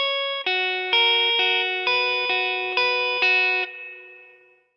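Electric guitar with effects and distortion plays a riff slowly, a handful of sustained picked notes in a steady sequence, the last one ringing out and fading, close and alone.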